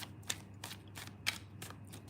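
A deck of cards is shuffled with quiet, close riffling and brisk swipes recurring in an irregular rhythm, soft overall with a couple of sharper snaps and no talking.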